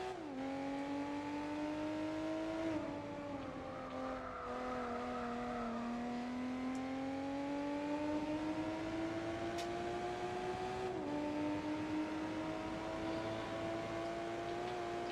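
Steady engine drone with rising and falling pitch, a car in Gran Turismo 4 revving and shifting gears continuously at close range, no talk.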